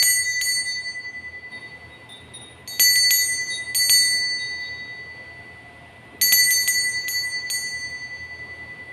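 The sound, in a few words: bell ringing to mark the start of a tarot reading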